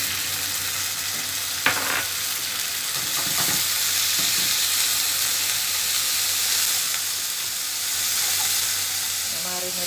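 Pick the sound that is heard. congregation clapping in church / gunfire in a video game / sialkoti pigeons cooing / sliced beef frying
sliced beef frying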